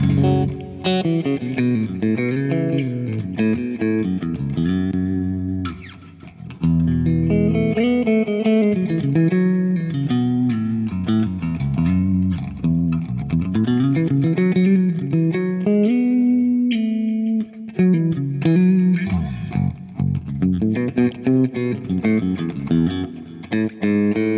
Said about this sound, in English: I'm just playing through like a 50-watt plexi profile on the Kemper here